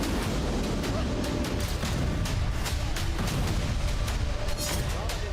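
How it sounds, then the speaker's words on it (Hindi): Heavy Israeli bombardment in Syria produces dense, rumbling explosions in repeated sharp bursts over a continuous roar, with possible voices mixed in. "एक के बाद एक धमाके हो रहे हैं"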